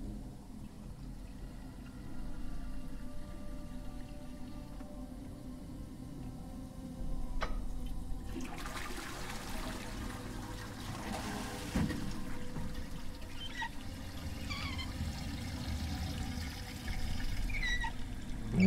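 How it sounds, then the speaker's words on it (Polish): Water running steadily in a bathroom in the game Lust from Beyond, a continuous soft pouring wash with faint ticking and small clinks, swelling slightly at times and heard alone. "Ale tak jakby woda się lała."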